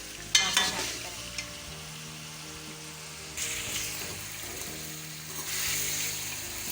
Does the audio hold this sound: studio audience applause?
no